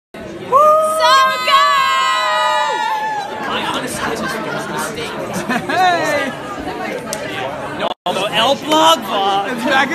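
A crowd at a Cabaret stage show cheers, shouts and whoops in a loud, lively burst, with excited voices and high yells rising and falling together close by.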